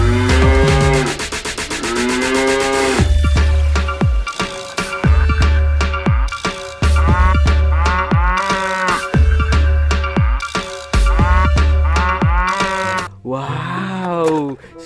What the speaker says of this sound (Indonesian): ini ada hewan sapi